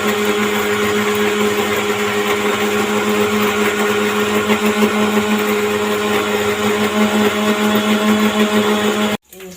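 A blender grinds mustard seeds into a paste with a loud, steady electric whine and churning hum for about nine seconds before cutting off abruptly.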